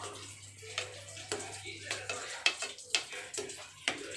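Paneer gravy masala sautéing in a pan with salt just added, a steady sizzle broken by repeated scraping and stirring strokes of a spoon against the pan.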